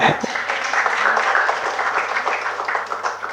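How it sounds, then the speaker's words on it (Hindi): An audience applauds during a Jain monk's sermon at Kunthalgiri, a dense, steady wash of clapping that starts strong and continues evenly for a few seconds over a low hum. "सूखी तालियां बजाने से कुछ नहीं होता।"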